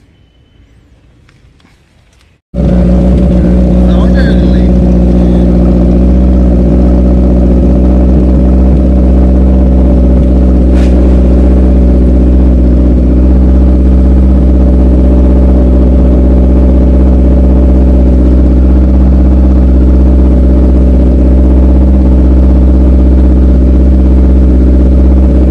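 A vehicle engine roars through a loud exhaust. After a couple of seconds of quiet, the sound bursts in and holds as a sustained, very loud, deep drone that continues to the end.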